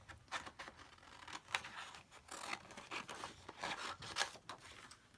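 Scissors cut out a paper tag, making a series of quiet, close snips and rustling paper crunches in an irregular rhythm, with no talk.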